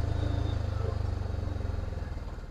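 A Piaggio Ape Classic auto-rickshaw engine running steadily with a rapid chugging pulse, close and fairly loud, the revs easing slightly as it shifts up a gear.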